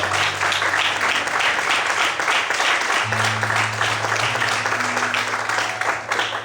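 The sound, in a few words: congregation applauding in church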